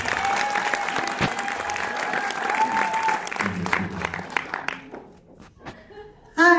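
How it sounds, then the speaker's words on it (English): Audience applause fills a room at a Tavala 2018 event in Hawaii, steady and dense for several seconds before thinning out, with a few cheers and a voice coming in at the end. "give Charlene a big round of applause"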